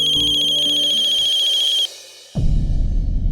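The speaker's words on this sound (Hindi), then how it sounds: "ये किसका फोन था?" A phone ringtone chimes in a bright, steady electronic melody for nearly two seconds, then cuts off. After a short hush, a louder burst of indoor noise follows.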